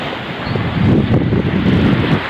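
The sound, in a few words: waves and wind at the Arabian Sea shore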